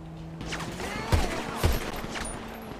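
Gunfire in a GTA roleplay police shootout, with two sharp shots standing out over a steady bed of game noise, other firing crackling faintly in the background.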